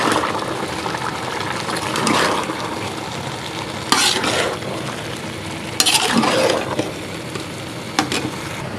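A spoon stirs lemon juice through chicken yakhni pulao rice in a pot of boiling liquid, giving close bubbling and sizzling with repeated scraping strokes and a few sharper knocks against the pot.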